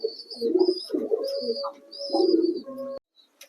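Close, throaty cooing of a white Indian fantail pigeon in several rolling phrases with faint chirps above, ending abruptly in near silence.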